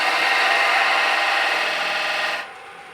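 A beading parting tool of 3/8 square high-speed steel cuts wood spinning on a lathe mandrel, a loud continuous rasping hiss for over two seconds before cutting off abruptly into quieter motor whir.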